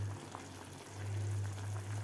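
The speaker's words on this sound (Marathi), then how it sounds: "आता हे 2 मिनिट आपण हे उकळून घेऊया सूप।" Cabbage soup boils in a pot, a faint, steady bubbling and simmering with a low hum underneath and no voices.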